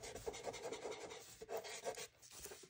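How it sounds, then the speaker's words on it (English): An eraser rubs out pencil lines on a butterfly drawing, producing quick rhythmic scratchy back-and-forth strokes, soft and close, with no voices. "Now we're just gonna erase some of these lines."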